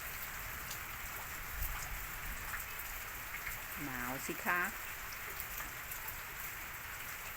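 Steady rain hisses evenly throughout, with someone speaking briefly over it partway through.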